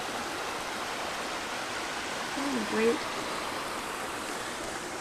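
Creek water flows steadily past a viewpoint at a studio, a constant broad rush filling the scene as a person speaks briefly over it.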